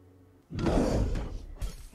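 A hidden wall door slides open in the film Avengers: Age of Ultron, a sudden heavy rumbling scrape that swells, holds for about a second, then ends with a short thud.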